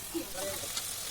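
Spices sizzling while sautéed in a pan with potatoes and prawns, a brief steady frying hiss at close range with faint stirring.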